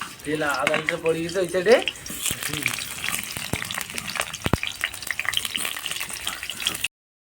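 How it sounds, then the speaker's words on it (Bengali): Round-cut potato slices fry in hot oil in a pan, giving a steady crackling sizzle with a few sharp pops and stirring clicks, after a brief voice at the start. "এদিকে হবে আলু ভাজা"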